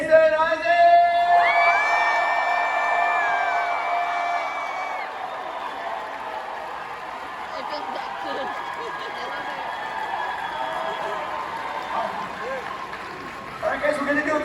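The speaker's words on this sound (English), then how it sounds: "You guys will yell for him" A convention crowd at Salt Lake FanX yells and cheers in welcome for Jason Isaacs, a loud sustained roar of whoops and voices that gradually eases off, with a fresh swell near the end.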